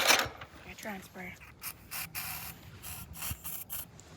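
Short bursts of aerosol spray are shot into a riding lawnmower engine, arriving as several close, hissing puffs amid rustling and handling noises, with a brief voice near the start.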